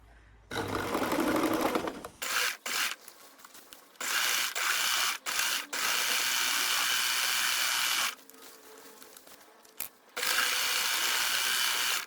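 Sewing machine stitching back-and-forth zigzag on denim jeans in reverse mode: several bursts of rapid mechanical chattering, separated by short pauses, close and clear.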